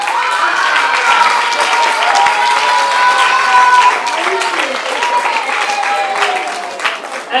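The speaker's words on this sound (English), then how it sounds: "A round of applause for her." Loud, sustained audience applause at a mathematics festival prize-giving, dense clapping throughout with a voice calling out over it and some crowd noise.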